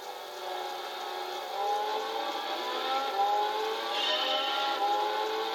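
Mercedes CL 63 AMG engine in Gran Turismo 6, a smooth climbing whine with rising harmonics as the car accelerates through gears, steady and moderately loud, heard alone without voices.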